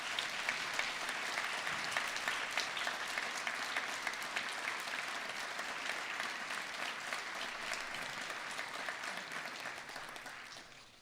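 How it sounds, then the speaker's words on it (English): A large winter graduation ceremony audience breaks into loud, sustained applause, a dense wash of clapping that holds steady for several seconds and then gradually fades near the end, with no speech over it. "give a loud round of applause for all those people here and elsewhere who've helped, inspired and encouraged you"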